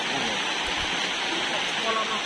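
Steady rain falling over a wide village fishing pond, a dense even hiss of drops on water and surfaces that fills the whole moment without pause.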